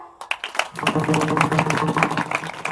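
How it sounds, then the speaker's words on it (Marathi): An audience at a kirtan claps along after a woman kirtankar's singing: quick, sharp, evenly paced claps ring over a sustained tonal musical drone, with a quiet start before the clapping builds. "गायनाचार्यांचं गायन आवडलं तर त्यांना टाळी वाजवायची. वाजवा टाळ्या"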